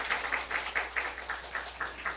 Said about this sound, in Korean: 길 대신 하나님께 박수 한번 올려드려요.